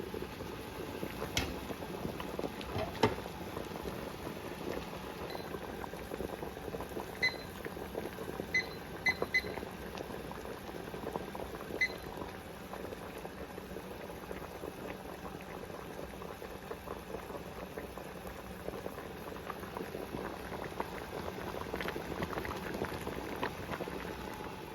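Pickles boil in a pot with a constant, busy bubbling that carries on steadily for about twenty-five seconds. A few faint high beeps come through partway along, and nobody speaks.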